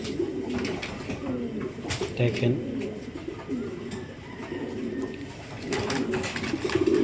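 A pair of pigeons on a loft give repeated soft, low cooing calls close by. Someone talks intermittently over them.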